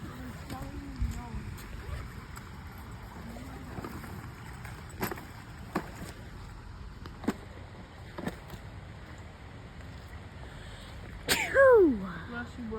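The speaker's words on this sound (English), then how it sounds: "Bless you, brother." Outdoors by a creek during a fishing trip, one person lets out a single sharp sneeze near the end. Before it come wind rumble, soft background noise and scattered quiet voices.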